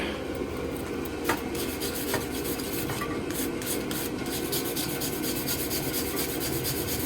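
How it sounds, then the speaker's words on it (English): A brush scrubs the end of a forged steel bottle opener in steady back-and-forth strokes, a soft raspy rubbing close by with a few sharper scrapes and light clicks, no voices. "So now we're going to give it a scrub on this end."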